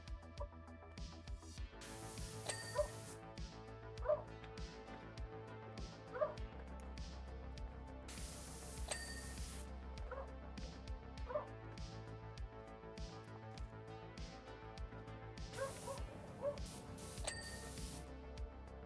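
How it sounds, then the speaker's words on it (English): A dog barks outside a window in Powerwash Simulator 2, with short yips and woofs repeating every second or two at a moderate distance over low droning game sounds and occasional bright bursts. "There also should be a dog barking outside, because there's a window technically right there."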